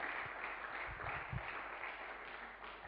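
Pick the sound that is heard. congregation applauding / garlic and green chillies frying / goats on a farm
congregation applauding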